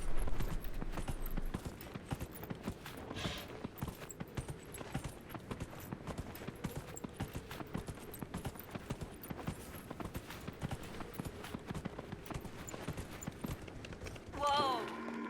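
Horse hooves clip-clopping in Dragon Age: Inquisition, a steady, fairly quick rhythm of hoofbeats running on through game sounds, with a brief louder swell near the end.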